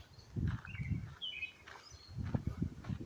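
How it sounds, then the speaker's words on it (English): Faint bird chirps and short tweets come from a distance over low outdoor rumble and soft background noise. "Just like these damn birds you hear chirping."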